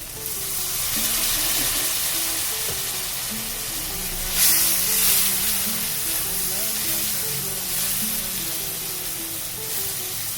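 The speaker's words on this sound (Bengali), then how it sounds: "দিয়ে সামান্য একটু আমি জল অ্যাড করব যাতে মশলাটা পুড়ে না যায়।" Spices, including half a spoon of coriander, sizzle steadily in a pan for a banana-flower curry, with a brief louder hissing burst midway as a little water is added.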